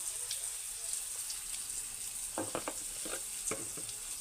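Ground spices, coriander powder and Kashmiri chili, fry gently in a pan for a cauliflower and egg curry, a quiet low sizzle with a few clicking stirs in the second half.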